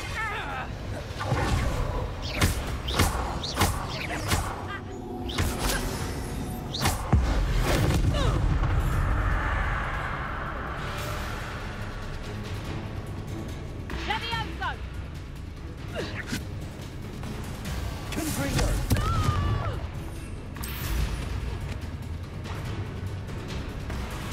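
Heavy booms and crackling blasts from the Bombarda and Confringo explosion spells in the video game Hogwarts Legacy, several explosions over a dense battle din, with voices shouting throughout.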